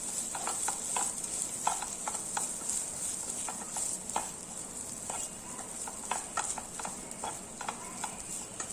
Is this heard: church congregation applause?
no